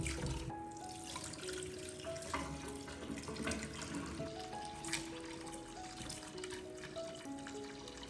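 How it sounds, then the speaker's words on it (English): Millet and urad dal are being washed in water in a kitchen: running tap water splashes and trickles continuously, mixed with swishing and stirring. "First wash the millet well 2 to 3 times. Then wash the urad dal 2 to 3 times."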